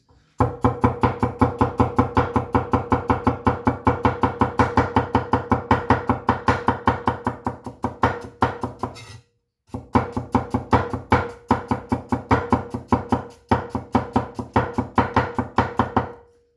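A heavy Deng TA-03 Chinese cleaver chops rapidly through food on a board, a dense steady run of sharp knocks that pauses briefly near the middle, then resumes at the same brisk pace, close and loud with no talking.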